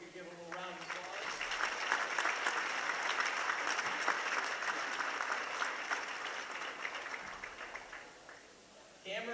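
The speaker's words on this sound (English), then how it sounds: "We could give a little round of applause." Donors at a Hoops for Hope doubleheader basketball fundraiser get a round of applause from the crowd: sustained clapping for about eight seconds that swells quickly, holds steady, then tapers off, with a voice briefly heard at the start.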